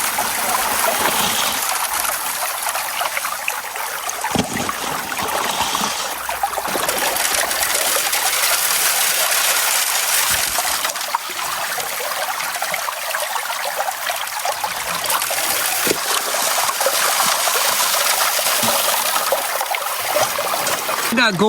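Water streams steadily through a Geo Sluice gold sluice beside a river, a continuous trickling and splashing wash that holds near and fairly loud the whole time, with no talk over it.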